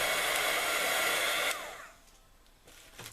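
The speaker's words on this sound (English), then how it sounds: "then you're going to heat emboss that." A heat gun blows a steady, loud whooshing hum as it melts clear embossing powder, then cuts off and winds down, with a few faint handling clicks afterward.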